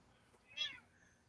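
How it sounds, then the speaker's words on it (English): A house cat gives a single short meow at moderate distance over a quiet room background, with no talk. "That was my kitty that meowed."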